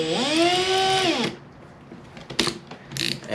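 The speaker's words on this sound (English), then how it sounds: "I'm going to use this drill bit to drill the recessed holes for the head of the screw" Power drill boring recessed screw holes in wood for a DIY TV wall mount: a whining motor that rises and holds for about a second, then cuts off, followed by a few scattered handling clatters.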